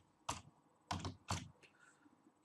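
Three distinct clacks of typing on a computer keyboard, each a short burst of keys, close and quiet with a soft tap trailing after.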